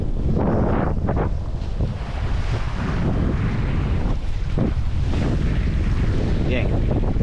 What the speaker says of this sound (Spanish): el viento ha levantado un poquito y vamos de ceñida